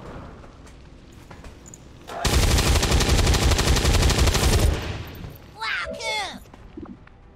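Sustained burst of rapid automatic gunfire in the XCOM 2 game, loud and dense for about two seconds, followed by fainter whooshing effects and a short rumble.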